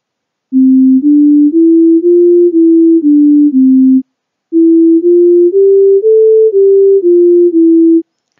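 A pure sine-wave tone steps through a do-re-mi-fa-mi-re-do, mi-fa-so-la-so-fa-mi melody of fourteen even notes, split into two phrases with a brief gap, clean and steady with no overtones.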